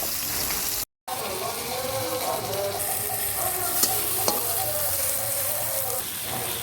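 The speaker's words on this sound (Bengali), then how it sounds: "একটা করে মাছ তেলে দিচ্ছি।" Bhola fish fritters fry in hot oil, a steady bubbling sizzle lasting throughout at moderate volume, with a brief cut in sound near the start and a couple of faint clinks of utensils.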